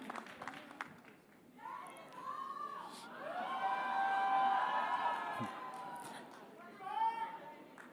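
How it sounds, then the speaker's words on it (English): A large crowd at a public event cheers and shouts for actor Yash, with screams swelling and peaking in long waves over a background of chatter and some clapping. "So a big round of applause, ladies and gentlemen, for Yash."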